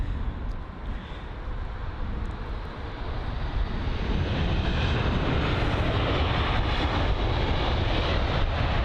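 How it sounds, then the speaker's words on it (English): A British Airways Airbus A320-200 lands, a broad steady jet roar that grows slightly louder partway through, with a continuous low rumble throughout. "Next up is going to be the British Airways A320-200 arriving from Amsterdam on its 1-hour long journey."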